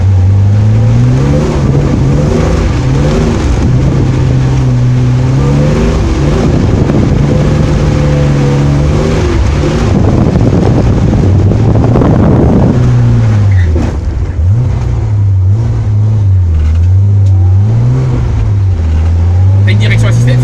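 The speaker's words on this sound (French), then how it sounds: "tu mets ton véhicule en dérive et tu essayes de flirter avec la ligne blanche" A car drifting on a track at Ladoux, its engine droning and rising and falling steadily with revs as it slides, loud and close with wind buffeting the microphone.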